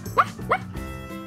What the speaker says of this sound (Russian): Собачка милая.